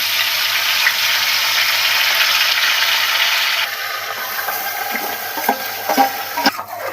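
Marinated mutton with potatoes being stirred in a pressure cooker, a loud dense hiss and sizzle for the first few seconds, then quieter sizzling with scraping and clinks of the spoon against the metal pot.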